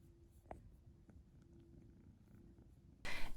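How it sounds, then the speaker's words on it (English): A cat lying on a bed purrs softly and steadily close by, with a faint tick early on and a sudden loud rustle at the very end. "Here is our kitty Rex. He's laying on our bed."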